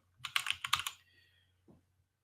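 Rapid typing on a computer keyboard to search for a GIS erase tool, a quick close burst of clicky keystrokes, then a single faint tap after a pause.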